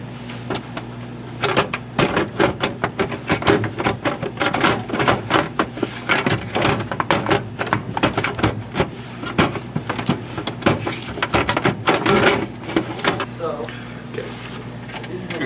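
A computer case panel is fitted back on during PC reassembly, with a busy run of sharp clicks, knocks and plastic-metal clatter close by for most of the stretch, over a steady low hum.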